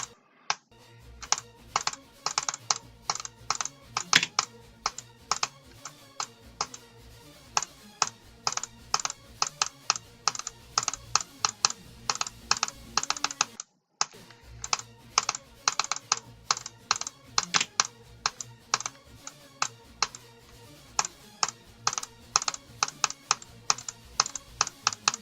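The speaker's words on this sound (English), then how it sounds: "Except when he spams on the laptop keyboard." Rapid, busy typing on a laptop keyboard fills the clip with dense, irregular clicks, close and fairly quiet, with one brief pause partway through.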